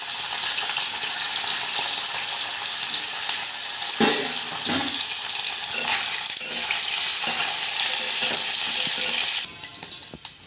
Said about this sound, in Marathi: पनीर फ्राय करून घेऊया।